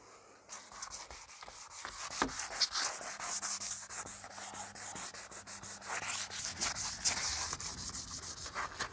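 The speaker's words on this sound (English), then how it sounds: "So I'm going to use this as a very fine sanding sponge." A very fine sanding sponge rubs back and forth across a PVCU exterior door surface, giving a steady close-up scratchy hiss in quick repeated strokes.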